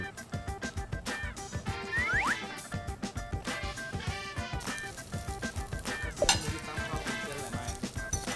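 Spaghetti noodles tossed into a pan of finished pasta sauce, giving a steady busy sizzle with rhythmic stirring and scraping, close and moderately loud, with brief higher squeaks of utensils against the pan.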